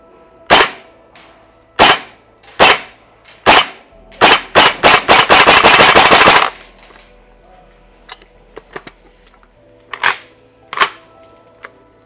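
Sharp gas-powered shots from a Tokyo Marui Saiga 12K airsoft shotgun replica ring out singly, then a rapid full-auto burst of cracks, followed by a few more scattered loud pops.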